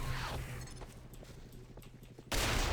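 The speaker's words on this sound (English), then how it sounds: "I didn't even know that this was the artillery cannon that was shooting" Artillery cannon fire in the video game Half-Life 2 Lost Coast: a run of rapid, evenly spaced blasts and thuds, then a louder, denser burst of booming noise near the end.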